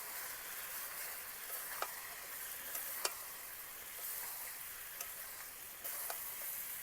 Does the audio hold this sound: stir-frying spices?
yes